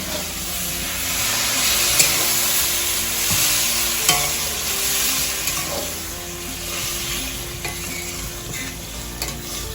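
Spice paste for a Bengali curry sizzles loudly in a pan as water is added, a continuous hissing fry with occasional scraping stirs and small clinks, close and steady throughout.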